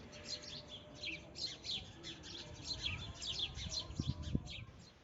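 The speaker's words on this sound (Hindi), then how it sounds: "हर तरफ चिड़ियों की आवाज़ है" Many small birds chirp and tweet continuously outdoors, a busy mix of calls at moderate distance with some low rustling underneath.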